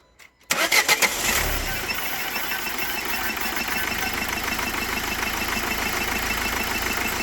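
A Renault Megane 3 1.5 dCi K9K diesel engine, with newly replaced Delphi injectors, cranks briefly, catches with a few heavy chugs, then settles into a steady, loud, rattling idle close by.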